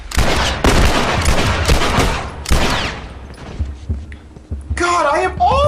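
Loud bursts of gunfire in The Last Of Us, rapid shots fired one after another, with the volleys thinning out and a brief electronic tone near the end.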